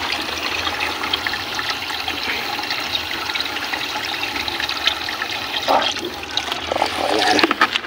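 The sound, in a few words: water being poured out for a prank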